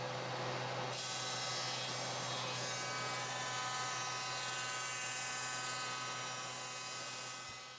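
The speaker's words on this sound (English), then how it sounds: "Now I'm going to take this over to the planer and plane it down the same width as my plywood" A wood planer running steadily as a board is fed through while building a shelf, a loud continuous whining motor drone that starts abruptly near the beginning and holds for several seconds before tapering off at the end.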